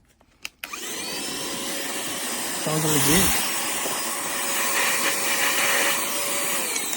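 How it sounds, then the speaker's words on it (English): A CODN handheld cordless 2-in-1 car vacuum rated at 12000Pa switches on after a few clicks and settles into a steady high-pitched whine and airflow hum, with a brief spoken remark partway through. "Pretty cute little vacuum."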